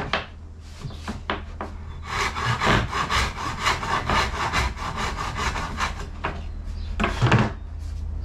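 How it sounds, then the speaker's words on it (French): Hand saw cutting into plywood, a close rapid series of rasping back-and-forth strokes, steady and rhythmic, with a few knocks at the start and a heavier stroke near the end. "on met les coups de scie aux endroits que l'on a remarqué"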